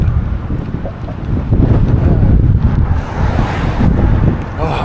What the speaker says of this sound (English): This wind is like blowing all the debris into my face.